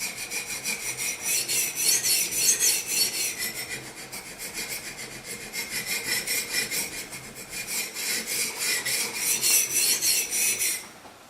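CTS-XHP steel knife drawn repeatedly across wet matrix diamond stones on an Edge Pro sharpener, a soft rhythmic scraping and rasping in long strokes, close and fairly quiet, with no talking.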